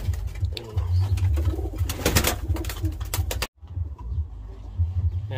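Pigeons coo continuously in a crowded loft, steady low rolling calls layered with some wing and body movement, close and fairly loud, with a brief gap of quiet before the cooing resumes.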